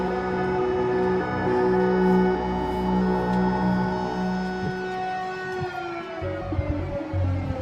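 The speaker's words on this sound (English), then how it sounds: "there are air raid sirens going off right now here in the heart of Kiev" An air raid siren in central Kyiv wartime drones steadily over a low rumble, holding long sustained tones with a slight rise near the end, loud and continuous.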